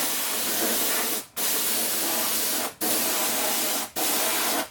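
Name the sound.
spray glue can spraying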